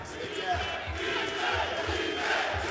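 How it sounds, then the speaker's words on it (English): A large arena crowd at a Japan versus Netherlands kickboxing bout chants rhythmically in a steady repeating pulse, loud and continuous throughout. "The crowd chanting, Vincent, Vincent."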